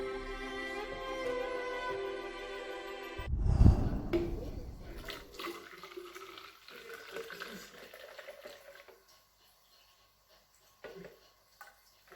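Water poured into a container in a home kitchen, a short loud gush at about four seconds followed by softer trickling and handling noises, over faint background music that fades out.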